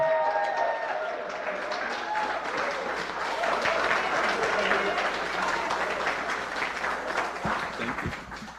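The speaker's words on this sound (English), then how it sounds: "Give her a bigger round of applause, ladies and gentlemen" Audience applause fills a townhall meeting in New York, a dense, steady clapping that swells and holds for several seconds, with a few voices faintly mixed in before it thins out at the end.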